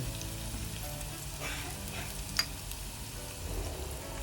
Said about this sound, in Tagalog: mainit na pan ay naglagay ako ng oil tapos inuna ko yung ginger susute natin ito na with garlic and onion